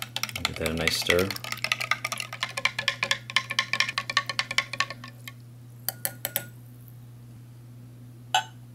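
A spoon stirs lemon lime beverage base powder into 12 ounces of water for an MRE drink, making a quick run of rhythmic clinks and scrapes for about five seconds before a few scattered taps and a quiet pause.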